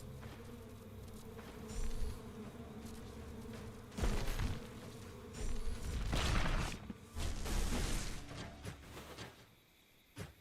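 Bees in the game Stoneshard make a loud, buzzing drone that swells and fades in several bursts, mixed with thuds and combat noises.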